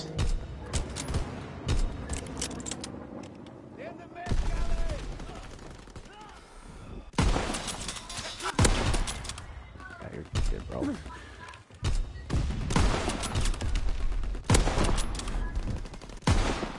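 Shotguns and other gunfire crack in loud, dense bursts through a video game firefight, with short gaps between the volleys and a voice talking over the shots at times.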